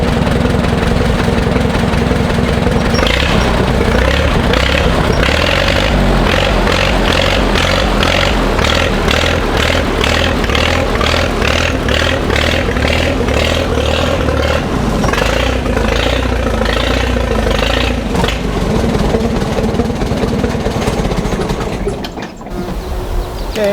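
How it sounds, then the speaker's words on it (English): A vintage 1945 Oliver 80 tractor engine runs steadily and loud throughout, its rhythmic chugging pulses joined by scraping clatter, then briefly dipping near the end. "I'll be back when the tractor's running"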